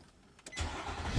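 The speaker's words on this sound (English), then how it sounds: "So now car is running." Nissan car engine cranking briefly on a newly replaced starter motor, then catching and settling into a steady low running rumble, close by.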